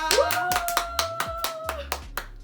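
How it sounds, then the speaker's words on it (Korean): Around ten crisp hand claps in a quick, uneven rhythm welcome a guest on a casual home cooking show, with a voice sounding over the clapping. "자, 박수로 모시겠습니다."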